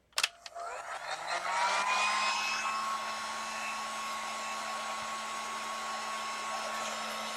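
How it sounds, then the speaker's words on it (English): A heavy-duty heat gun clicks on and spins up into a steady, fairly loud blowing whine with a constant motor hum that holds to the end. "And it is a heat gun."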